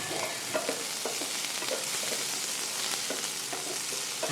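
Karamcha (carandas plum) fries lightly in a pan, giving a continuous soft sizzle with small crackles and spatters throughout, quiet and close with no talking.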